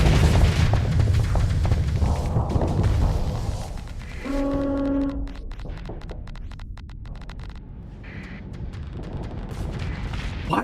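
Ship destroyed in the Starsector space combat game: a heavy booming explosion rumbles over dense battle noise, followed by a brief tonal alert and scattered crackling impacts as the din slowly fades.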